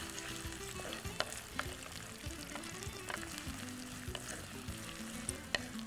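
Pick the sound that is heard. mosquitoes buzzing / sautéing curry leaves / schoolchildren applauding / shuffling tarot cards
sautéing curry leaves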